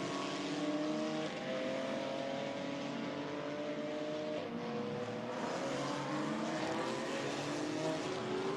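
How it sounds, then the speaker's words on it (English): A GT4 race car engine passes at Hockenheim during a GT4 European Series race, a loud sustained drone with shifting pitch as the car accelerates, holding strong throughout. "There goes the Pro-Am lead car"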